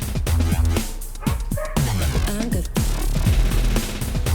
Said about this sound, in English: Something's upsetting that dog out there.